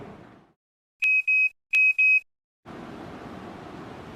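A key finder alarm sounds when someone walks away without their keys: two crisp, loud double-beeps in a quiet room, followed by a steady background hiss.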